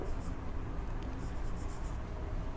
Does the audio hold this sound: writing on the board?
yes